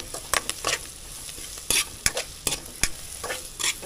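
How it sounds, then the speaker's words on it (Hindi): A spoon scrapes and stirs green chilies and spices in a hot pan, giving a steady low sizzle under a string of sharp, irregular clacks and scrapes, close by and fairly quiet. "ये पकने के लिए मैं इसे हिला रही हूँ।"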